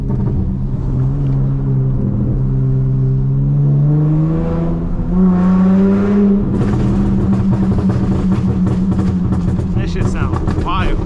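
Dodge Charger V6 with a loud exhaust burbling and rising as it drives, deep engine drone that climbs in pitch then settles into a rough rumble, with people talking over it inside the car.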